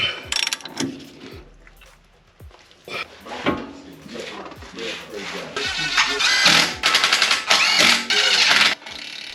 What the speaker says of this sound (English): now I gotta tighten everything down.